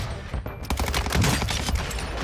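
Revolver gunfire in Call of Duty Warzone, a rapid flurry of sharp, loud shots bunched together over about two seconds amid noisy in-game action.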